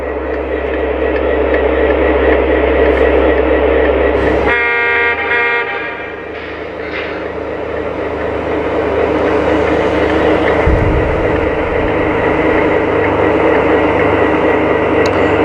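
An O scale model SD40T-2 diesel locomotive runs with a loud, steady electronic engine drone, blows a horn in a short series of blasts, then settles back into a continuous rumbling hum with a low thump partway through.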